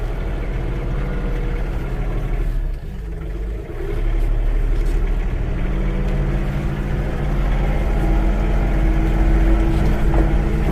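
A heavy-duty truck drives with a loud, steady low engine drone and rumble close by, dipping briefly before resuming at full strength, with no talking.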